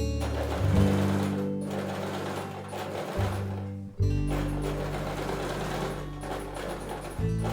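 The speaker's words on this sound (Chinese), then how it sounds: "那大家看到的这个线段呢，就是我们要车的缝纫线。" An electric sewing machine runs a seam on a handmade fabric bag, its motor whirring in a steady close hum with a rapid needle rhythm, stopping briefly near the middle before starting again.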